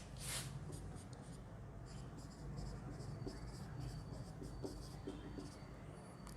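Marker pen squeaking and scratching across a board during a chemistry lecture on the periodic table, a steady run of faint strokes with a brief louder burst near the start, set against low room hum.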